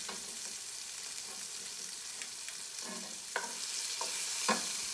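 Steak frying in a pan, a steady hissing sizzle with a few sharp crackles and pops growing slightly louder toward the end, close and uninterrupted by speech.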